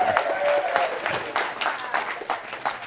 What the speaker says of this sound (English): Where's the big applause there?